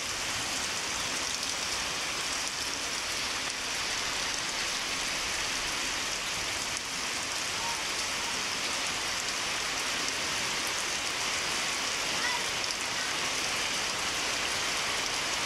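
Steady rain falls during a typhoon, a constant dense hiss of drops with no breaks, heard at even, moderate level with no voices.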